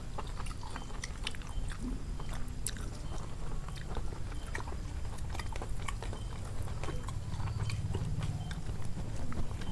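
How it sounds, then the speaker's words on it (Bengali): Close-up chewing of tomato chicken curry meat, soft repeated biting and mastication sounds in a steady rhythm, with no talking. "এখন একটা মাংস খাই দেখি।"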